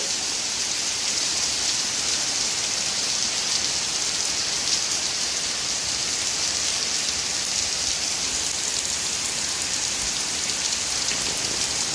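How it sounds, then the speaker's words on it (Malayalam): Steady, dense rain pours in a forest in Wayanad, Kerala, a continuous close hiss of drops on leaves and surfaces with no pauses or voices. "മഴ ആസ്വദിക്കാം"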